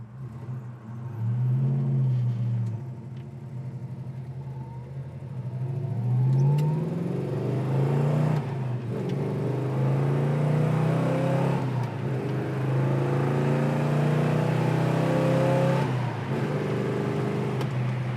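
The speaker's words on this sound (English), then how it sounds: "Acceleration out of the 383 is real nice." A 1968 Plymouth Road Runner with a 383 engine, first rumbling at idle and then accelerating through gears, with deep rising engine sweeps growing louder from inside the car.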